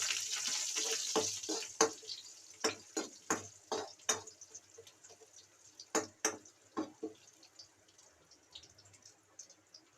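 Garlic fries in hot oil in a kadhai with mustard seeds and cumin, with a soft sizzle under a string of sharp pops and crackles that come quickly at first and then thin out.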